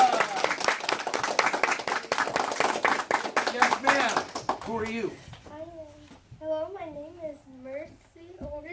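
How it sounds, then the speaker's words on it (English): Audience applause and clapping for elementary school students at a classroom American Revolution presentation, dense for about four seconds then fading out as a voice speaks. "Round of applause for them, everyone."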